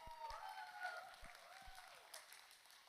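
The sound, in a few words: audience applause at a stage play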